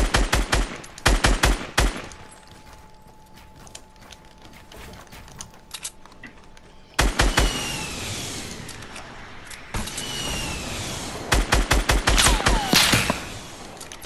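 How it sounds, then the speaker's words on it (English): Sniper fire in a Fortnite match: sharp, loud gunshot cracks in a rapid cluster at the start, then a quieter stretch before more bursts of gunfire and game action return. "Somebody's sniping."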